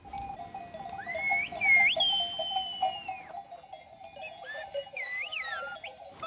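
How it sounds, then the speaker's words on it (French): The red sheep of Charistos village on Euboea can be heard outdoors with a regular clinking bell and rising whistled calls from shepherds over it, while bleats stay faint. "Ah, c'est le mouton rouge du village, de Charistos."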